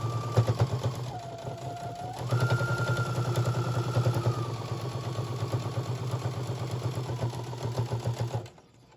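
A sewing machine stitches straight across a folded kitchen towel, a steady fast mechanical whir and rapid needle clatter running for several seconds with small speed shifts before stopping abruptly.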